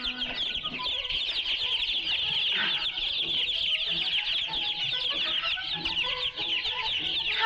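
A flock of chickens on a ranch clucks continuously, a busy chorus of overlapping short clucks and squawks, with occasional wing flaps and faint voices mixed in.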